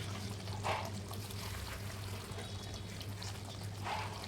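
Kewra water is poured into simmering chicken chaap, a short faint liquid splash and trickle over a low background hum, with a second soft pour near the end.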